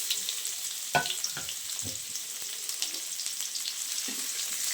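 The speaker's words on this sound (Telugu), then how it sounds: "కట్ చేసి పెట్టుకున్న టమాటాలను కూడా కొంచెం జాగ్రత్తగా వేయండి, ఆయిల్ వచ్చి చేతుల మీద పడుతుంది. వేయించుకునేద్దాం." Chopped tomatoes hit hot oil in a pan and fry with a steady bright sizzle, broken by a few sharp spatters and soft stirring knocks, fairly close and alone.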